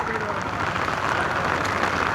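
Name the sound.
rain drizzling in the forest on Merthi Gudda hill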